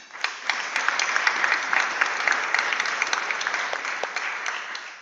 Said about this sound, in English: So please clap it up for him